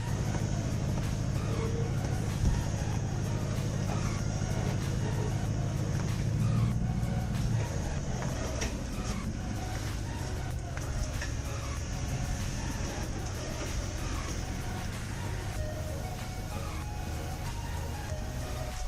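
A Pinzgauer military vehicle moves into a garage with a deep, close rumble for the first several seconds, then settles into a quieter, steady low hum.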